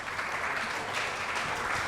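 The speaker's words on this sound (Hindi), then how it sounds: "जोरदार तालियां मैम के लिए" Steady audience applause at an awards open mic night, following a poet's performance, sounding as dense continuous clapping throughout.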